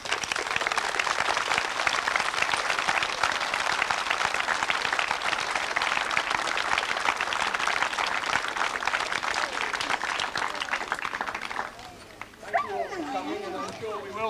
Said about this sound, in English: So can we give them a very special round of applause?